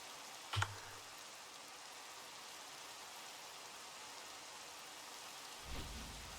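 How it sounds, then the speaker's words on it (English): Steady rain hissing throughout a Minecraft modpack game world, with a sharp thunder crack near the start and a deep low rumble of thunder toward the end. "Oh, maybe I have to wait for the rain to stop."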